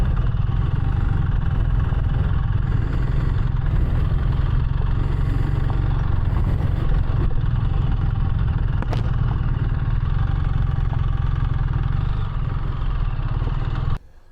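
Adventure motorcycle running continuously up close, its engine held at a steady, loud drone throughout the trail-stop practice, with a faint click near the end before the sound cuts out.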